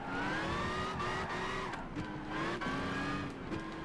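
A car engine in Gran Turismo 5 revs hard and accelerates through rising gear pulls, loud and continuous, with brief dips at gear changes and a hint of tire squeal.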